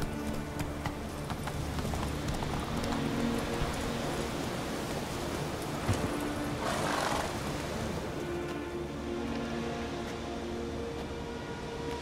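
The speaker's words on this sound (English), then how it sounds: "That's it, Roach" Hooves of Roach, a horse in The Witcher 3 video game, clip-clop in a steady galloping rhythm under continuous ambient game sound, with a brief louder whoosh partway through.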